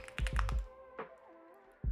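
Quick clicking keystrokes on a computer keyboard, a rapid burst of several close taps followed by a pause and a couple of isolated presses.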